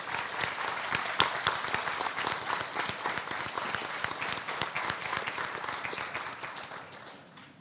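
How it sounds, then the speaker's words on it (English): Sustained applause from a large crowd at a high school National Honor Society induction ceremony, loud and continuous, slowly fading toward the end. "a round of applause"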